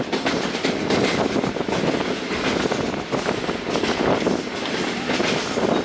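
The Karachi Express runs on rails near Malir, its wheels rumbling and clattering in a loud, continuous roar with rhythmic clickety-clack, heard from aboard the moving train without talk.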